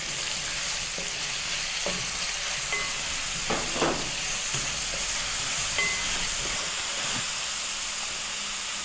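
Sliced onions and green chillies frying in a pan for a Kerala-style chicken curry, a steady close sizzle with scattered stirring clatters and scrapes.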